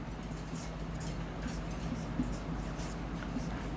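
Chalk or marker scratches faintly on a classroom board during a chemistry lecture, soft intermittent strokes sitting under a steady room hum with a murmur of voice.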